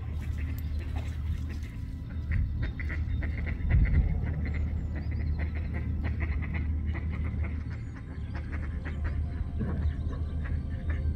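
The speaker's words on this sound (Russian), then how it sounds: "А утки на посиделках." Ducks quack and chatter at a gathering on a foggy morning in Bolderāja, Riga, faint and a little distant over a constant low rumble of wind or traffic.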